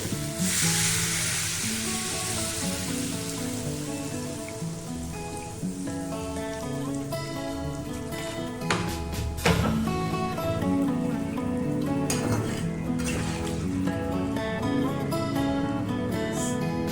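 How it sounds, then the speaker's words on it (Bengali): Water poured into a hot pan of paneer curry makes a loud, steady, rain-like sizzling hiss that lasts throughout, with a few louder splashy bursts midway. A tonal background hum runs beneath it. "এটা এবার একটু জল দিয়ে দেবো"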